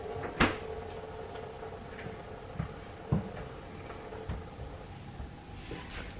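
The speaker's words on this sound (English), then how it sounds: "My door is very noisy" Faint creaks and soft knocks of a door being worked open, a few scattered clicks over a steady low background hum.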